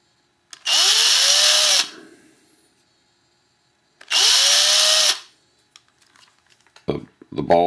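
Two bursts of a high-pitched power drill whirring, each about a second long, separated by a pause, followed by light clicks and handling sounds, during rotor mast assembly with servo arm screws.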